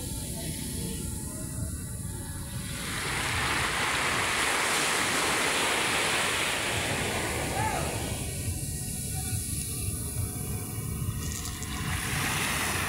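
Waves at Manila Bay wash in and out in a broad, continuous roar with a louder surge in the middle, heard close amid steady wind noise.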